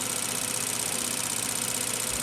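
A small electric motor connected through a bridge with an amp meter runs steadily, giving a continuous, even hum and whir close by with no talking.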